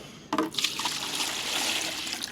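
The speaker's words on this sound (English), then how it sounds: "Put a little water in there" Water is poured into a container for mixing with glyphosate weed killer, starting with a quick splash and then settling into a steady, close, moderately quiet stream.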